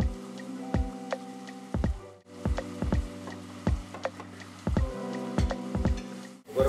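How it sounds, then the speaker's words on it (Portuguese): Onion, garlic and carrot frying in a pan for a Portuguese shrimp açorda, with a steady soft sizzle broken by repeated low knocks of a utensil stirring against the pan, close and fairly loud. "Enquanto frita ali um bocadinho a cebola, o alho e a cenoura"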